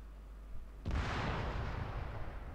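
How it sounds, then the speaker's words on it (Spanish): A single loud blast of gunfire or an explosion in the Arma 3 Altis Life video game, a sharp burst followed by a rumbling decay lasting about two seconds. "¿Os estáis pegando de tiros sin mí?"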